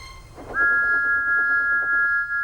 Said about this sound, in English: Thomas's whistle soon woke them up.